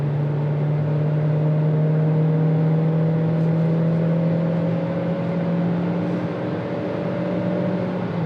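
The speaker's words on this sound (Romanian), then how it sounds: "chiar și așa mașina accelerează, adevăr, se turează" Dacia Jogger Hybrid engine drones steadily from inside the cabin, its hum holding strong and rising slightly as the car accelerates, with no voices.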